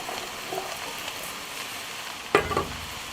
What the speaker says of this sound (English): now we're going to add the potatoes